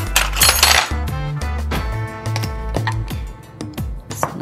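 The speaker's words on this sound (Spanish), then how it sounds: "Voy a agarrar una cuchara para mostrárselos." A metal spoon clinks and rattles against a bowl of blended restaurant-style salsa as it is picked up and handled, a run of close, sharp taps and scrapes at an uneven pace.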